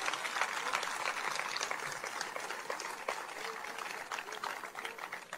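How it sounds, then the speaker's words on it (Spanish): A church congregation at a Spanish-language sermon applauds at the preacher's call, a faint, steady, distant patter of many hands that lasts the whole stretch. "Denle un aplauso al Señor Jesucristo."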